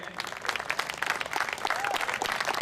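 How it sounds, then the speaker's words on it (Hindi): Applause from a crowd at the close of a poetry recital at IIT Jodhpur, steady massed clapping heard at moderate distance, fairly quiet overall. "जाते जाते एक बार जोरदार ताली वाली बजाते हुए निकलें"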